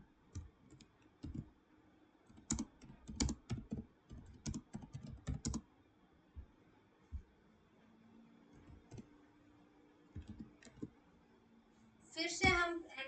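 Typing on a computer keyboard while writing Python code: scattered quiet clicks and short bursts of keystrokes, a clatter of rapid taps near the end, with someone speaking softly in places between them.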